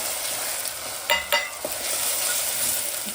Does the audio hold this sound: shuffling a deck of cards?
no